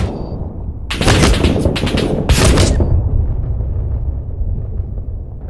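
Mortar explosions in Six Days in Fallujah, a cluster of heavy booming blasts arriving in quick succession after a quiet start, loud and close, then rumbling away into a low lingering tail.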